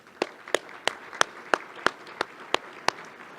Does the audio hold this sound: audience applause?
yes